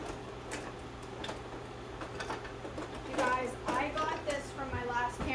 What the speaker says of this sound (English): I better whisk that